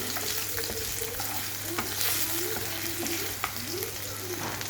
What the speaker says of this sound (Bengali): আলুগুলো একটু ভাজা হল